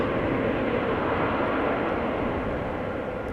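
A KLM Embraer E190 airliner rolls down the runway at Amsterdam Schiphol and begins to rotate on takeoff, its jet engines producing a loud, steady broadband roar heard from a distance.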